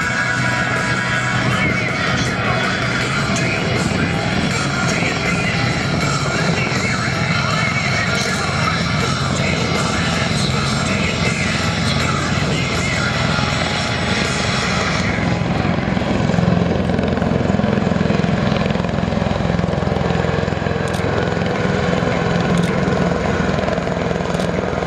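A US Marines MV-22B Osprey tiltrotor hovers at an air show, its loud, steady rotor and engine roar filling the whole stretch, continuous and close, with a crowd and announcer faintly beneath.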